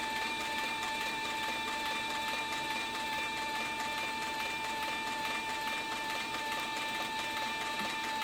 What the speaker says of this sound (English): As you can see, the machine just takes off and runs very smooth.